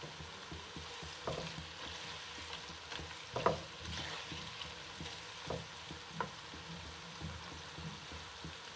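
Cumin seeds and softened onion frying in hot oil in a pan for village-style aloo gobi, a steady close sizzle broken by occasional scraping stirs and soft clatter, with no voices.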